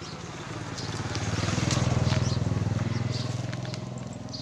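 A Yanmar F475D tractor diesel engine idles nearby with a loud, rapid, even chugging that swells a little in the middle.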